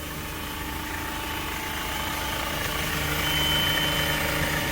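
A 1-ton sky lift truck idles with its PTO engaged, a steady low engine drone with a constant vibrating hum that stays even and close throughout, with no voices.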